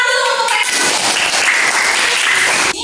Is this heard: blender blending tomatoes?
no